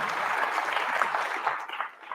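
Audience applause at a live awards show, a brief burst of mixed clapping and crowd noise that stays fairly even before fading and fluttering at the end.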